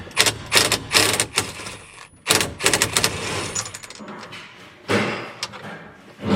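A small impact wrench with a chrome deep socket working on a John Deere 8400 tractor, firing in loud rattling bursts separated by short pauses, close by.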